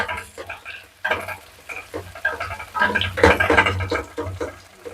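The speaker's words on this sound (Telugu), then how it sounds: "తాళింపు వేగిపోయింది" Tempering of spices and lentils sizzles and crackles in hot oil in a pan for a raw banana fry, loud and close, with stirring scrapes and bubbling bursts throughout.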